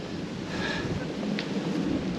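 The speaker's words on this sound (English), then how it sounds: "bit windy today." Steady wind buffeting the microphone outdoors in the English countryside along the Kennet and Avon Canal in autumn, a broad rushing roar with occasional gusts, no voices.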